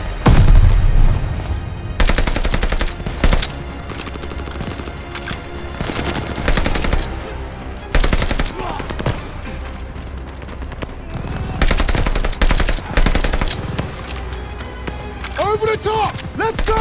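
Call of Duty Vanguard battle with repeated bursts of machine gun and rifle fire, loud and close, in dense volleys with brief gaps, while soldiers shout orders over the shooting.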